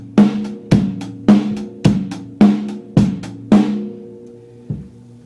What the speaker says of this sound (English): You can hear it only includes three of the things: hi-hat, bass drum, and snare.